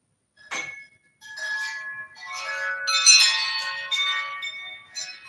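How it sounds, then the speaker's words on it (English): Small bells and chimes ring in a bright, glassy cluster, opening with a single clear strike, then sustained overlapping tones that swell and shimmer for several seconds, close and fairly loud, with no talking. "Welcome to the House of Bells."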